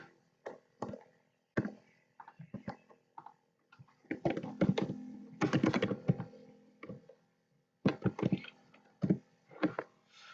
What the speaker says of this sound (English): I'm going to type instead. It's much easier.